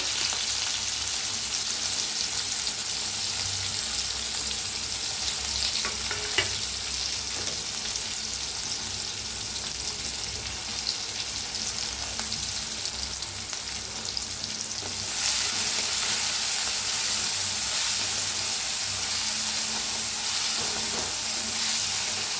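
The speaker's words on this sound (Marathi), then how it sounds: "अर्धा चमचा जिरं, आता कांदा, हिरवी मिरची, लसूण सगळं भाजून घेऊया" Cumin, onion, green chili and garlic fry in hot oil for a dry drumstick-pod vegetable dish, a steady, loud, close sizzle with crackling hiss running throughout, growing slightly brighter near the end, with no talking.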